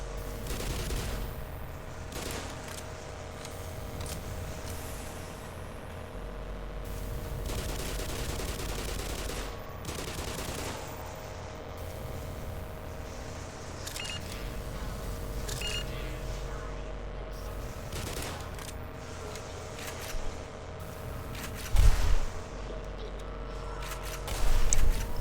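Bursts of gunfire fill the Black Mesa game, near-continuous rattling shots running under excited talk, with a couple of sharper, louder bangs toward the end.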